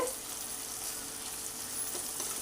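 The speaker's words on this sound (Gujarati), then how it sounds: "તો હવે એને આની અંદર એડ કરીને સાંતળવાનું છે આને સરખી રીતે સાંતળવાનું છે" Garlic sautéing in a pan, an even, close, continuous sizzle with faint stirring scrapes and no talking.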